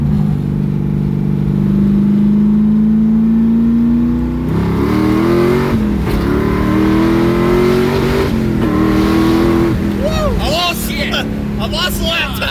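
LS-swapped Mazda Miata on nitrous pulls hard in second gear, its V8 rising in a loud, continuous revving roar through shifts in pitch, heard from inside the car with voices talking near the end.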